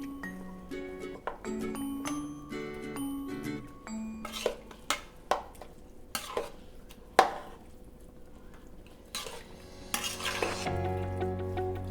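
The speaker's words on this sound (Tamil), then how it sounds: "ரைஸ் சேர்த்துட்டு நல்லா கிளறிடுங்க." Rice is stirred into mutton dum biryani in a cooking pot, giving a steady scraping and stirring texture with a run of sharp spoon clinks against the metal over soft background music.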